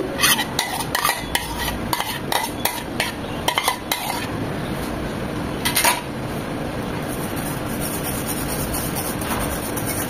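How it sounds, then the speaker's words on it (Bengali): Tamarind pulp being strained into a pan, with a run of quick metal scraping and clinking strokes for the first six seconds, then a steadier soft rustle and muted kitchen clatter nearby. "এই প্যানে তেঁতুলের সসটা করব, তাই এখানে তেঁতুলের মারটা ছেঁকে নিচ্ছি।"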